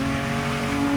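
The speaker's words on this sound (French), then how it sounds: "Une belle relance, clutch kick, on a bien entendu la relance" A race car on track at a Viking Cup round in Nord Mayenne, engine held at high revs in a loud, steady, harmonic-rich drone after a clutch kick, close and continuous for a brief moment.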